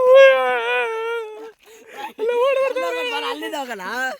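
Drawn-out, wavering howls from several dogs rising and falling, loud and close, with a brief break before the howling resumes.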